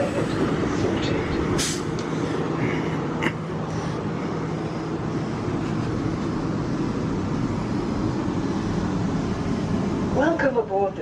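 A London Northwestern Railway train bound for London Euston rumbles along from inside the carriage, a steady continuous low roar with occasional clicks and rattles, a few brief voices near the end.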